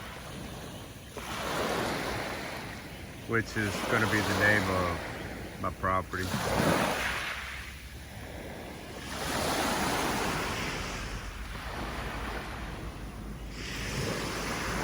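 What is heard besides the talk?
ocean waves on a beach in Antique, Philippines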